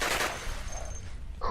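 Rapid full-auto gunfire in the Cataclysm DDA game, a dense burst of shots that runs steadily through the moment at moderate loudness with no one talking over it.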